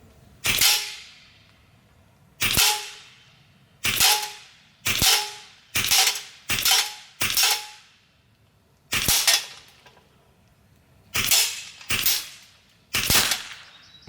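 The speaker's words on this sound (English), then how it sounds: "I needed to smack some steel on my prototype auto reset target" A Huben GK1 .25 caliber air rifle fires again and again at a steel auto-reset target. Eleven sharp, loud cracks, each followed by a ringing metallic ping, come in irregular spacing about a second or two apart.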